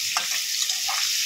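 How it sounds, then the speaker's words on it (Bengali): Sliced potatoes, cut lengthwise, frying in hot oil in a pan, giving a steady bright sizzle and crackle that stays close and continuous with no voices. "এই তেলের মধ্যে এবারে আলুগুলো ভেজে নেব।"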